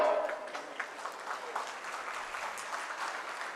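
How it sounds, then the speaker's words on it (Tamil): Audience clapping at a national SC-ST hub conclave in a hall, a steady patter of many hands at moderate distance, with a faint voice over it at the start. "Can we give the round of applause more louder?"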